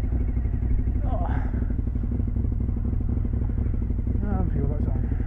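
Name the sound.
motorcycle riding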